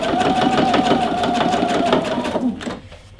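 A sewing machine runs steadily through a thick denim jeans hem, a rapid, close mechanical whirr and chatter that slows and stops near the end.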